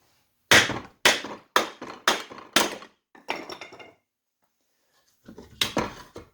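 Sharp hammer taps on a planetary gear being driven out of an Argo ATV transmission case: six loud, evenly spaced metallic knocks, a short pause, then a few more quicker taps, close up with no talking.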